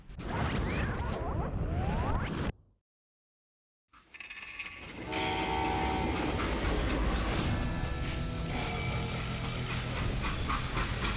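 A freight train in the Western shooter Call of Juarez Gunslinger rumbles and clatters loudly with whooshing rushes, cuts to near silence for about a second, then returns as a dense, sustained rolling roar with metallic clanks.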